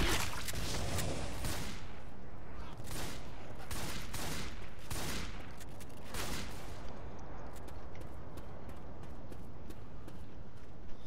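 Video game gunfire, a rapid barrage of crackling shots and bursts filling most of the stretch, loud and dense, tapering to scattered pops near the end.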